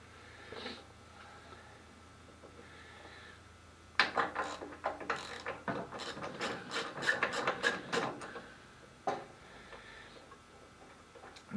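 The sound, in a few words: changing the spark plug on a Tecumseh snow blower engine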